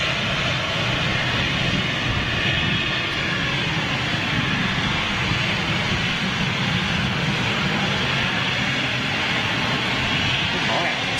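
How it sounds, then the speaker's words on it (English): Stobart Air Embraer jet at London City airport: a steady, broadband engine roar held at an even level throughout, with some speech mixed in. "That's Stobart Air Embraer."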